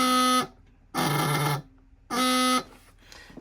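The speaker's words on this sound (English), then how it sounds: "as soon as I press that button, the buzzer comes on." Three loud buzzes from a vintage 1950s Eagle Comics Dan Dare space toy decoder, each lasting about half a second with short gaps between, close and alone in an otherwise quiet room.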